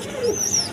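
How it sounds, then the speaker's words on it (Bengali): Baby Mookee pigeons, a pair in yellow and chocolate colours, give a brief, soft coo at close range. A thin high chirp sounds alongside it. "দর্শক এইখানে এক জোড়া বেবি আছে, মক্কি কবুতর"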